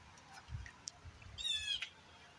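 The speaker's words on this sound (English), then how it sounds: "And now the bird's in pain." A bird gives a short, harsh squawk of distress outdoors, with a few faint chirps beforehand over a low background rumble.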